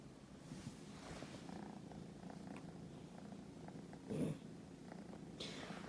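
A kitten purrs in a studio, a soft continuous rumble that stays low and steady, with a brief louder rustle partway through.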